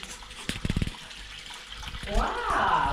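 Water runs from an opened tap aboard a boat, a steady broadband rush that builds near the end after a stretch of talking, with a voice speaking over it earlier.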